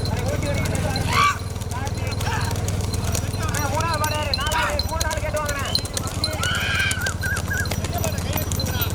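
Hooves pound steadily in a bullock cart race in Pudukkottai, a loud continuous drumming under a crowd, with someone shouting commentary through a loudspeaker throughout.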